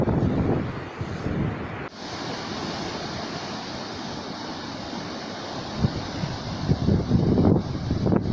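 Ocean surf with white waves washes in near the Maroochy River mouth in Queensland, a continuous broad roar buffeted by heavy wind noise on the microphone, with a few louder gusts.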